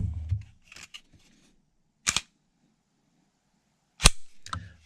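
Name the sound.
clearing Sig P320 pistols, racking the slides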